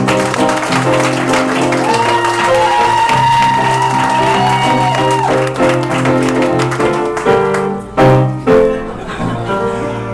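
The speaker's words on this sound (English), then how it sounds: "Give a warm round of applause for Kristin Marks." A game show audience applauds a contestant as she is introduced, with a broad wash of clapping that runs under loud, bright music before it breaks off into a few scattered claps near the end.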